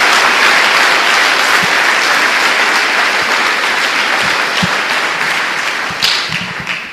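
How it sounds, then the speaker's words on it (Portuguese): A church congregation applauds loudly and continuously, dense clapping from many hands filling the space, with a few louder thumps and claps near the end as it begins to taper. "Dê uma salva de palmas a Jesus."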